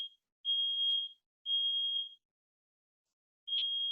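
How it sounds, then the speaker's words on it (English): A smoke alarm chirps in three long, steady high-pitched beeps separated by short gaps, loud and piercing with nothing else audible. "and there's the smoke alarm."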